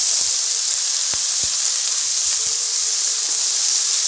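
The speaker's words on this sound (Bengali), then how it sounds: "কাঁচা লঙ্কা দিয়ে আলুটা ভেজে নেব।" Potatoes frying with green chillies in a pan, a steady close hiss and sizzle throughout with a few soft clicks of stirring and no talk.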